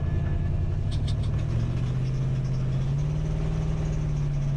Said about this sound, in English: the Willys Wagon runs and drives